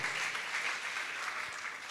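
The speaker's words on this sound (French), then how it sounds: "Des applaudissements également pour elle." Audience applause for a contestant at a fashion competition show, a soft, steady patter of clapping heard from a distance at low volume, with no voices over it.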